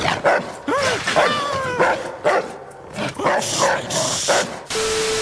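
Dogs in the horror video game Fear and Hunger give a run of close, loud barks and yips with whining tones, followed by a sharp short bark and a steady tone at the end.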